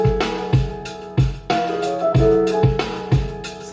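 A drum break sample time-stretched in Native Instruments Maschine plays as a looping groove of punchy kicks and snares with tonal sample layers, the hits evenly spaced and loud throughout.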